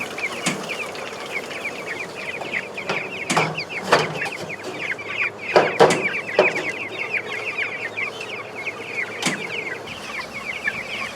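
A crowded flock of chickens chirps and clucks steadily, broken by a few loud thumps and brief wing flaps close by.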